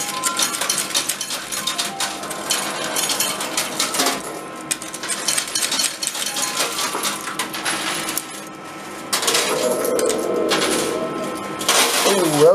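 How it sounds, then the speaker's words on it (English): Coins cascade and clatter steadily inside an Australian coin pusher arcade machine loaded with gold and silver prizes, a dense metallic jingle running throughout with a louder surge near the end. "That was a lot of coins."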